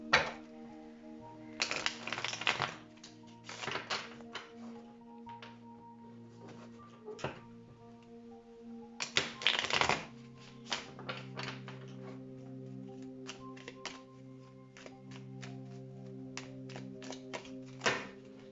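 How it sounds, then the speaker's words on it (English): Tarot cards being shuffled by hand in a quiet room, with repeated bursts of riffling and soft slaps against a steady tonal background hum, no talking. "I'm just gonna shuffle real quick for you guys"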